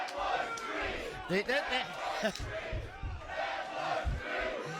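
A wrestling crowd at an indie show roars and shouts in loud waves after a near fall, a dense, close mass of voices swelling and dipping.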